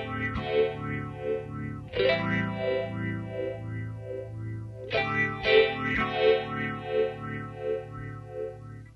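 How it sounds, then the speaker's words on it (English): A Stereo Polyphase phaser driven by a triangle-wave LFO sweeps a sustained, slightly driven chord, a slow rhythmic whoosh that rises and falls steadily over several restruck chords, with no talk. "this is going to create this really spatial phase shifting sound."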